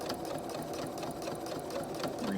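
A sewing machine stitches through bulky fabric while a zipper is sewn onto a bra, its needle running in a fast, steady, even rhythm with no voices.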